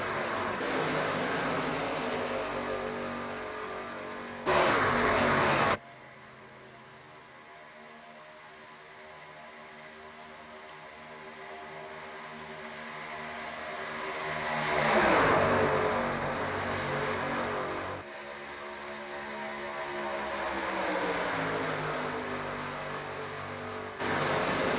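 Racing trucks' engines in iRacing at Daytona drone steadily, their pitch rising and falling as they race past, with a brief louder cut-in and no talking over the continuous engine roar.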